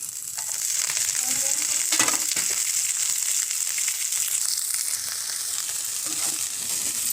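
Coriander leaves frying in hot oil for a chutney, a steady broadband sizzle throughout with occasional stirring scrapes and small crackles, close and continuous with no talk.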